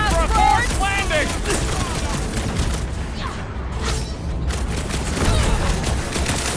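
Turret fire crackles in a Marvel's Guardians of the Galaxy battle, with dense, continuous bursts of gunfire and booms layered with game effects and character voices talking over the action.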